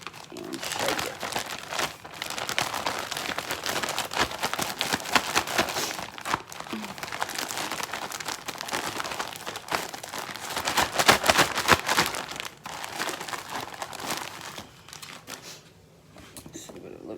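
Raw chicken breasts are shaken in a zip-up plastic bag before air frying, giving a continuous close crinkling and rustling of plastic that carries on for most of the stretch, with speech mixed in.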